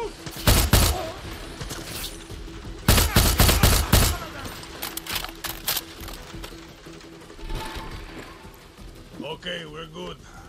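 Bursts of gunfire in Far Cry 6, two loud clusters of rapid shots followed by scattered lighter cracks and battle clatter, with someone talking over parts of it.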